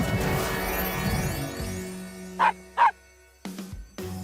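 Two short, high-pitched yips from a small dog a moment apart, followed by a couple of brief thuds, after a stretch of soft tonal background.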